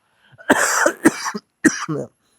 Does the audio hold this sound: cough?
yes